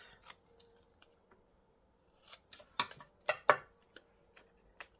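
Scissors snipping paper while trimming pieces for a Christmas journal page: a handful of sharp, close cuts in uneven bursts, a few quick snips clustered in the second half, with quiet gaps between and no talking.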